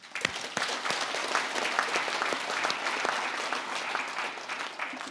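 An audience at a Korean Buddhist forum on inter-Korean peace gives a big round of applause: steady, dense clapping from a sizable crowd, held evenly for several seconds.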